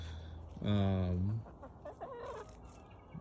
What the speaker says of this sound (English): You can see there's a couple chickens that didn't go in last night, so they came out early